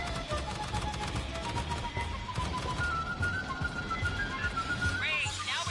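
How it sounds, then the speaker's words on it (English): Rapid bursts of gunfire from the sci-fi shooter Aliens: Fireteam Elite, a rattling run of repeated shots under in-game voices and ambient sound, holding at a moderate level across the stretch. "Must have heard the gunfire."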